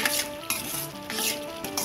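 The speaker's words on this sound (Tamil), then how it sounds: "இந்த டைம்ல பச்சை மிளகாய், கொஞ்சம் உப்பு, தேவையான அளவு உப்பு போட்டு நல்லா இன்னும் கொஞ்சம் வதக்கிட்டு" Green chillies and salt sauté in a pan as a spoon scrapes and stirs in short strokes over a faint sizzle, and a low musical tone plays underneath.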